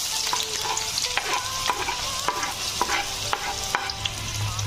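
Onion frying in hot oil in a pan gives a bright, steady crackling sizzle, with light rhythmic scrapes and taps of a spatula stirring it close by.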